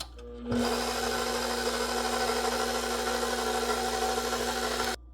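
A stand mixer runs in first gear, kneading sour cream dinner roll dough: a steady motor whir with a low hum and gritty churning, starting abruptly after a brief pause and cutting off near the end, close and with no talk.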